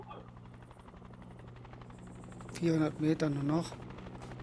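A military helicopter hovers in a Fallujah deathmatch shooter game, its steady rotor drone running low in the background while someone speaks briefly over it.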